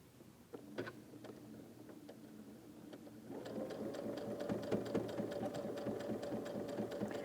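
A sewing machine stitches slowly through many layers of quilt fabric for a string star block. It starts with a few separate clunks, then settles into a steady, rapid mechanical hum and ticking. The sound is close and quiet.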